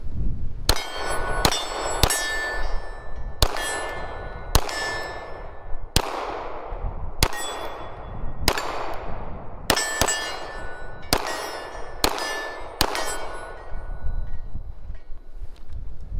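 Shots from a GForce RPX9 Exodus pistol loaded with polymer bullets ring out one after another, each sharp report paired with a metallic clang from steel targets, about a dozen in an uneven rhythm, loud and close outdoors.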